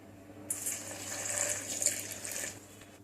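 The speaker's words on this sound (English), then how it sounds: "Lastly, we are going to add water." Water poured into a garlic chutney spice mix of chili, coriander and cumin, a steady bright splashing stream lasting about two seconds before tapering off, with no talk.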